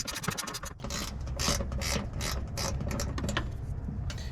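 A hand ratchet backing out a single 10mm bolt on the hood of a 2022 GMC Hummer EV, a fast continuous run of close metallic clicks with a few short pauses as the handle swings back and forth.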